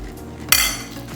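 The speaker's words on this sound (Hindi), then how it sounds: "स्टोव ऑन कर लिए और 1 चम्मच से हम इसको उठाते जाएंगे।" A spoon scooping chapli kabab mixture into an oiled pan gives one sharp metallic clink against the pan, followed by a soft fading ring, close and brief.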